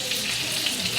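Cheeseburger deluxe patties, each topped with two slices of Colby Jack cheese, fry on a diner-style griddle in a steady, dense sizzle. The sizzle holds close and even for about a second, with no talking.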